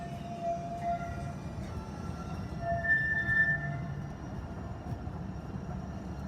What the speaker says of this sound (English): better wait for the Atlanta streetcar to go by